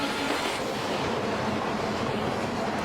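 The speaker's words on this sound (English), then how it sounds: "And there's another train coming." A train rumbles past in a television episode, a dense, steady roar with no break throughout, loud and close.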